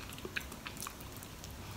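Soft, close chewing of durian fruit, with a few faint moist smacks and small clicks scattered over a quiet background.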